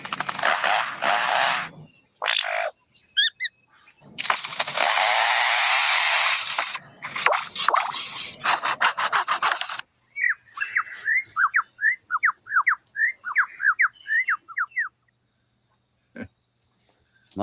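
A lyrebird mimics the chainsaws of foresters working nearby: loud bursts of rasping, buzzing noise, followed by a run of quick, sharp chirping calls and a final brief click.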